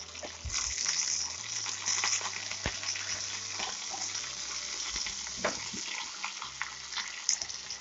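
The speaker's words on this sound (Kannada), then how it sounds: "ಒಂಜಿ ಸ್ಪೂನ್ ಸಾಸಿವೆ ಪಡ್ಗ ಚೂರು ಕರಿಬೇವು" Mustard seeds and curry leaves sizzle in hot oil during tempering for a Tulu mango chutney, a soft, steady crackle with scattered pops, fairly faint and close.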